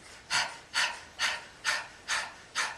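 Breath of fire, a rapid panting yoga breathing exercise: six sharp, evenly spaced breaths close to the mic, each a short forceful puff with a brief fade, in a quiet room.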